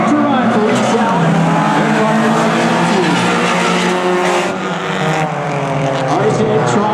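Race cars roaring around a short oval track during a Hornet class race with one lap left, engines loud and continuous with passing surges and some tire squeal, a commentator talking over the racket.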